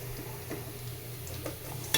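Soybean chunks frying in a pan, a faint steady sizzle under scattered light stirring scrapes and clinks of a utensil against the pan, with a sharper knock at the very end.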